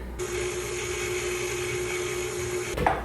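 An electric mixer whirs steadily, beating butter, sugar and eggs for lemon blueberry breakfast bread batter, a constant faint motor hum that cuts off near the end.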